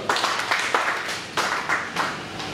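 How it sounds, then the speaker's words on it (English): Applause from a seminar audience at a business master class, a fairly loud, dense wash of hand claps that surges in a few swells over a couple of seconds, with no talking. "An applause for that."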